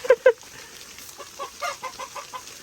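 Silkie chickens kept alongside turkeys, chicks and hens cluck close by, beginning with two sharp, loud clucks and continuing with softer, murmuring clucks.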